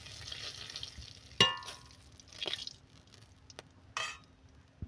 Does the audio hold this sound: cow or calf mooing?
no